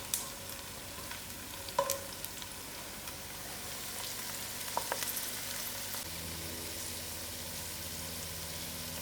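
Onions fry in a pot toward golden brown for lamb biryani, a soft, even sizzle with a few clicks of utensils early on, quiet and close, and no one speaking.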